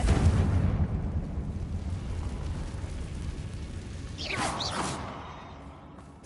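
A Confringo spell blasts in Hogwarts Legacy, a deep rumbling explosion that rolls on with debris-like crackle, and a swooping magical whoosh rises midway before the blast fades.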